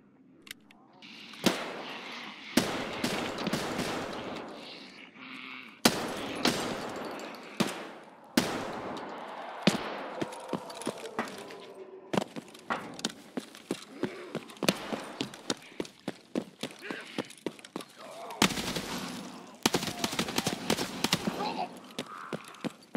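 Explosions and gunfire crash through a zombie-event video game match as sharp, repeated bangs and bursts, some near and loud, others faint, with a player talking throughout.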